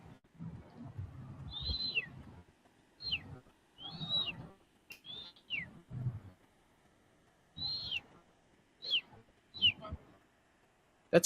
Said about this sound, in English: That's close to the sound an eagle makes.